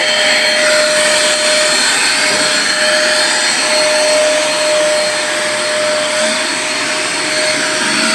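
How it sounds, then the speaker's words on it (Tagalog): A cheap, low-cost vacuum cleaner costing about 2,000 runs steadily and loudly, with a constant motor whine holding one tone throughout and broad airy rushing noise, uninterrupted and close. "Ito yung vacuum na. Mumurahin lang yan."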